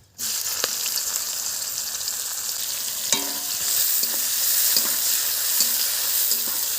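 Whole garam masala spices (black pepper, cardamom, cloves and cinnamon) hit hot oil and burst into a loud, steady, hissing sizzle that holds throughout, with a few faint utensil clicks in the middle.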